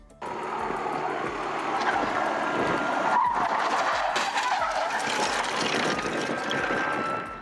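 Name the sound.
car skidding after police spike strip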